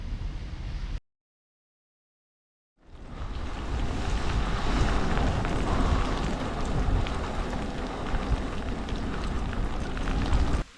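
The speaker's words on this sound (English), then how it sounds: "Yeah, it's definitely raining." Steady rain and wind noise while descending the Apennines by bike, a loud, dense broadband hiss that drops out briefly near the start and then runs continuously with no talking.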